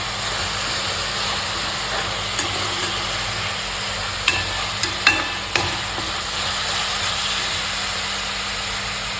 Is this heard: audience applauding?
no